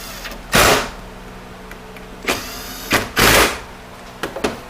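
A power tool drives the two hold-down bolts of a plate on a 68RFE transmission during a rebuild, in several short sharp bursts separated by pauses and light clinks.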